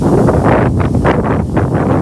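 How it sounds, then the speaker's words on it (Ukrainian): Strong gusting wind buffets the microphone in an open field, a steady low roar with rushing surges throughout. "Тому тут вітряно."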